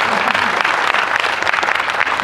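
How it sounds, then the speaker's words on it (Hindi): Audience at a Hindi comic poetry gathering bursts into applause, a sustained crowd of clapping hands that swells and wavers slightly, close and fairly loud. "एक बार ताली ढंग से बजा।"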